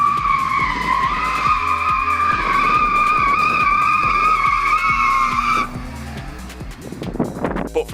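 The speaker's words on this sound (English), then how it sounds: "The C1 is also a good car at handbrake turns." A Citroën C1's tires screech in a long skid during a handbrake turn with engine revving, the squeal cutting off near the end as the engine note drops.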